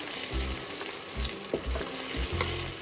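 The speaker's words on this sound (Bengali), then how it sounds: "কড়াই সাদা তেল গরম করে কাঁচা লঙ্কা দিয়েছি আর মটরশুঁটি দিয়ে দিয়েছি এবারে নুন দেবো আর এটা ভাজা ভাজা করে নেবো" Green peas and green chillies fry in hot white oil in a wok, a loud constant sizzle punctuated by several low, thumping stir strokes of a spatula.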